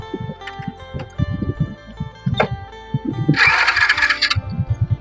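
A vehicle engine starts in a rural village in Dong Noi, Outhoumphone, Savannakhet, Laos: low chugging turnover pulses build into a loud, harsh burst as it catches, close by.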